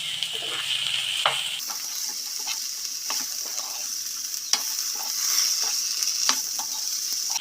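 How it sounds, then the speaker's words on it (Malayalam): Vegetables for biryani being stir-fried and mixed in a hot pan, a steady close sizzle with repeated scraping stirs and clinks of the spoon throughout, no talking. "ഇനി ഈ വെജിറ്റബിൾസ് കൂടെ ചേർത്ത് നന്നായിട്ട് മിക്സ് ചെയ്തെടുക്കാം"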